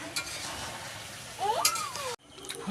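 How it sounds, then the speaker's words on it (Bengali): Meat curry being stirred and fried in a pan gives a close, busy sizzle with scraping stir strokes and a brief rising voice in the background before the sound cuts off abruptly. "তো এদিকে মাংস কষা চলছে"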